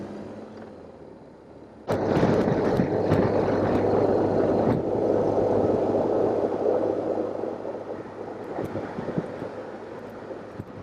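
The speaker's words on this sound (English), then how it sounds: "You can hear them all racing off up the road." Traffic on a London road with a 40 mph limit pulling away together, a sudden broad rush of engine and road noise that swells and then slowly fades, heard up close from a moving rider amid wind.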